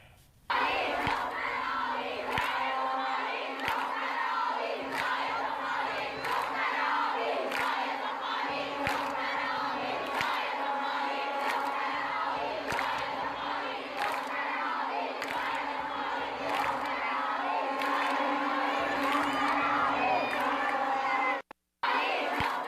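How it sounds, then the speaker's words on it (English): Iranian women football supporters cheer loudly as a dense crowd at a match, a steady roar of shouting voices with clapping mixed in, continuous and close, cutting out briefly near the end. "the Iranian female supporters enjoying and clapping on their team here"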